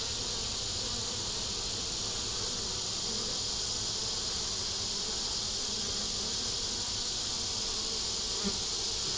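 Honey bees buzz steadily in an opened beehive holding brood, nectar and pollen, a dense continuous hum close by with no talking.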